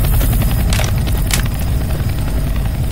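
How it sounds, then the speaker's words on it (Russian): Helicopter rotor drone in the zombie shooter game Left 4 Dead 2, a steady loud low thumping wash that runs through the whole stretch with bursts of game noise over it. "Это вертолет."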